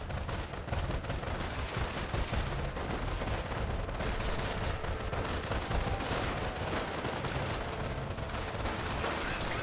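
BAR squads firing in Company of Heroes, a World War II strategy game: dense, continuous rifle and machine-gun fire with explosions, loud and sustained throughout, a commentator's voice faintly underneath.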